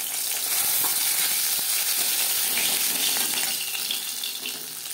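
Fish frying in hot oil in a home kitchen, a steady dense sizzle with light crackling throughout, close and continuous, no voices.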